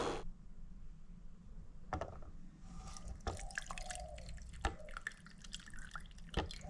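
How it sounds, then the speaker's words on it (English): Boiled lemongrass tea is strained, with liquid dripping and trickling steadily into a cup at close range and a few sharper splashes and clinks along the way. "Strain. Leave behind the bits of lemongrass there."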